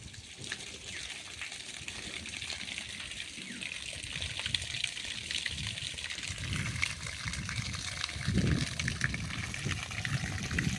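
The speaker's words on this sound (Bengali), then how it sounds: "প্রায় দু তিন ঘন্টা আগে এইভাবেই কলটা চলছিল এখনও দেখেন চলছে এটা" A running tap pours drinking water in a steady, continuous rush with no break, fairly faint and heard alone without any voices.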